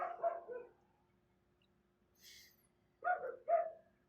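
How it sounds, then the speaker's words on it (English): A dog barks loudly nearby in short bursts: two quick barks, a pause with a faint high whine, then two more sharp barks. "there is a dog barking really loud"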